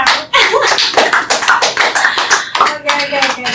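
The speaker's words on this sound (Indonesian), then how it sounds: "oh ya, tepuk tangan" Audience hands clap in a steady patter at the close of an alumni podcast session, a dense run of close claps lasting a few seconds with no talk over it.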